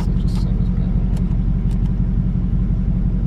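A Dodge Hellcat cruises along with a steady, loud low engine drone and rumble throughout, continuous and close, with no obvious revving surges.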